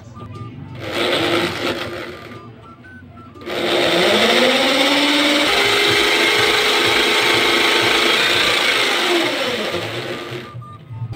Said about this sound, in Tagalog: Gagamit nga pala ako ng barena pang butas dun sa bracket natin.